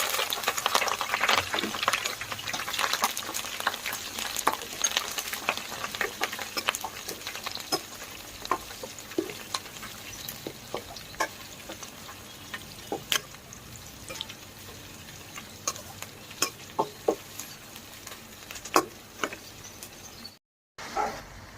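Beetroot and carrot stir-frying in a pan after garlic, a faint continuous sizzle broken by frequent sharp clicks and taps of a spatula, with a brief dropout near the end.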